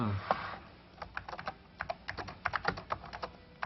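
Typing on a Mac computer keyboard in a 1991 computer program segment: a quick, uneven run of close key clicks, fairly faint, with a soft voice briefly at the start.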